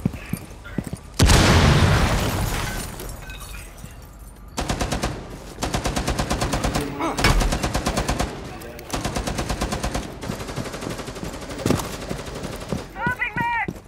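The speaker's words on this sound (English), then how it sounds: "Deploying breach shot" In Rainbow Six Siege, a breach shot goes off with a big loud blast, then long bursts of rapid automatic gunfire rattle in repeated volleys, with brief gaps and a voice heard between shots.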